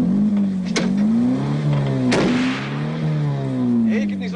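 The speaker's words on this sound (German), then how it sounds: "gib nicht so viel Gas. Der Motor geht in den Eimer" A car engine drones and rises in pitch as the driver presses hard on the gas, revving with a steady harmonic whine and a couple of sharp clicks, close and loud throughout.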